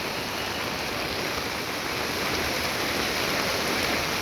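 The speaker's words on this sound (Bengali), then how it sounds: "আবার বৃষ্টি করছে" Steady rain pours down on a street in Mirpur 10, Dhaka, a dense even hiss of rain on surfaces that fills the scene continuously and close by.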